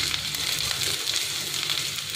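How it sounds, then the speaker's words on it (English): Onions and garlic browning together in a pan for a saag mutton curry, with a dense, continuous sizzle at close range and no voices. "The onion will continue browning with the garlic."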